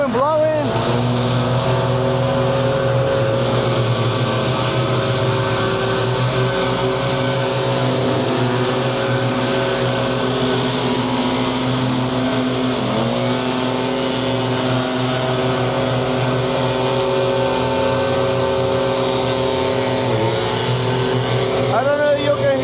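Several leaf blowers run together during a spring cleanup after a snowstorm, a loud, continuous engine roar whose pitch wavers as the machines shift, with a voice talking underneath.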